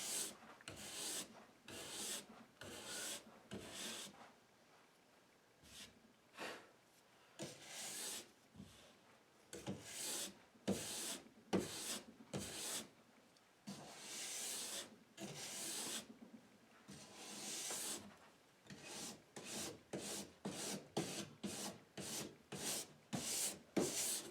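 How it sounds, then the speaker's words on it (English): Powerful, repeated rasping strokes of a scraper stripping white wax flakes off a cross-country ski base, loud and close in a steady, uneven rhythm with brief pauses between passes. "You should be scraping until these white flakes stop coming up."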